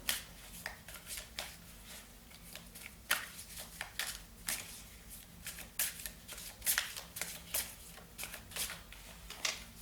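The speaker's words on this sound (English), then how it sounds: "Christelle Martinette is making a mess of the cards" Tarot cards are shuffled by hand at close range in a steady run of crisp riffling and slapping bursts, with no one talking.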